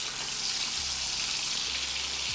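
Bacon frying in a pan while salmon is prepared, a steady close hiss of sizzling fat with no talking.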